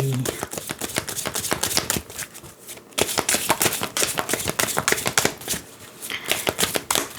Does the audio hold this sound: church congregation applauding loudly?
no